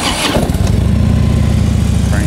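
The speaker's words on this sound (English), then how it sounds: "I'll fire it off for you." A Harley Davidson Street Glide FLHX motorcycle engine cranks and fires, then settles into a close, loud, throbbing low idle.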